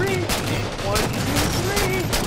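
Rapid video-game gunfire rattles in dense bursts of shots with booming impacts, loud and continuous, while a player talks over the shooting.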